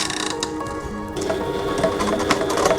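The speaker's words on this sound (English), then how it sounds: "we're sewing on that side" A sewing machine runs a top stitch through fabric with a steady mechanical whir and fine rhythmic ticking, close and moderately loud, and the motor picks up speed partway through.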